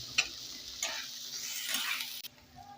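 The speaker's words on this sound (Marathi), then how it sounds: "डाळ थोड्या वेळ परतून घ्यायची हरभऱ्याची डाळ" Split chana dal being stirred and sautéed in a pan at home, with steady sizzling broken by several scraping strokes of a spoon, close and alone.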